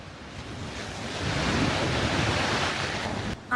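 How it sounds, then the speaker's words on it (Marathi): Niagara Falls at night sends up a steady, loud broadband roar of rushing water, swelling slightly midway and continuing unbroken with some wind buffeting on the microphone, cut off abruptly near the end. "तुम्ही फक्त आवाज ऐका पाण्याचा"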